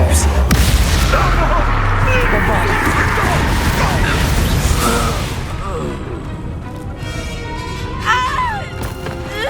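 In Hogwarts Legacy combat, a Confringo blasting spell explodes with a sharp booming burst, followed by rumbling impacts and clashing battle noise, while characters shout and talk throughout.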